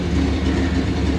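A vehicle engine with an exhaust leak runs nearby with a loud, steady low rumble and a rough, chuffing texture.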